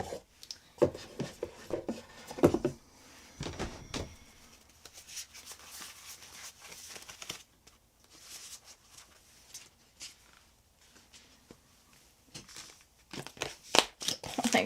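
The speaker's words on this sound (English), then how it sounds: "So enjoy my awkward shuffling moment." A large, awkward deck of cards is shuffled by hand, giving irregular bursts of riffling, slapping and crinkly card noise close to the microphone, with quiet gaps between attempts.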